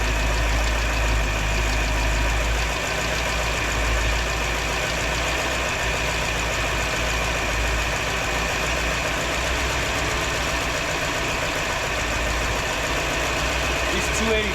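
A 1958 Chevy Bel-Air's 283 V8, revived after decades of abandonment, idles steadily and loudly close by with a constant low rumble and no change in pace.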